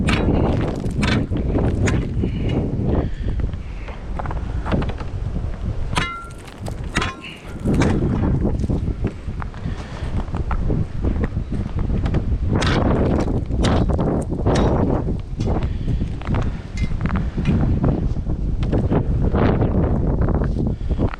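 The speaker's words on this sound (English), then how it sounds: "I'm not going any further just because of the wind." Strong, steady wind buffets the microphone beside frozen Big Muskego Lake in Waukesha County in December, a loud continuous roar with gusting surges and brief lulls, no speech audible over it.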